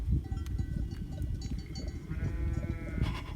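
Sheep bleat near a group of people, a few short nasal bleats over a busy low rumble of movement and shuffling, with a faint bell-like ring.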